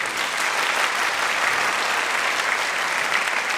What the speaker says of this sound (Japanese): はい、じゃあ皆さん拍手どうぞ。